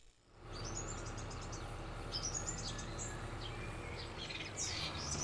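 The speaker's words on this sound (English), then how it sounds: "Here we hear birds." Birds chirp and tweet in bursts of high calls over a steady low rural ambience in Farming Simulator 22, moderately near and repeated throughout.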